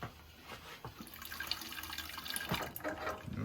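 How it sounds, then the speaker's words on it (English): Water rushes and splashes steadily from an opened pipe fitting on a flooded steam boiler with a failed automatic feeder, a continuous hissing gush with a few sharper spatters, close by. "Water comes shooting out of there."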